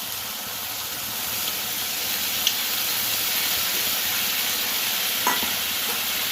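Spice paste of cumin, coriander, ginger and chili powder with tomatoes sautéing in a pan for a vegetarian kohlrabi curry, giving a steady close sizzle and hiss, broken by a couple of faint clinks of a stirring utensil.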